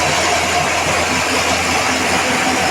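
A homemade 20 kW wood-fired generator engine running at a steady, loud idle, a continuous close mechanical drone with an even throb and no pauses.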